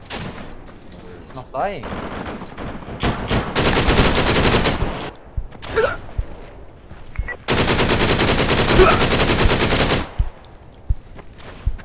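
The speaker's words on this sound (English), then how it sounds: "Is there one in the tower or who's shooting there?" Loud automatic gunfire in the Deadside video game rattles in long sustained bursts with short gaps and a few single shots between them, while players talk over it.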